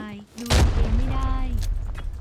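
A loud explosive grenade blast in the game Arena Breakout bursts in early, followed by a sustained rumbling roar as a voice talks over the noise.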